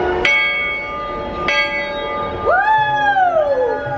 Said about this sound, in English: I get to ring the bell on the Lily Bell.